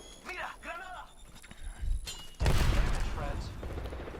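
Gunfire in the shooter game Apex Legends breaks out as a loud rapid burst of shots partway through, following someone talking.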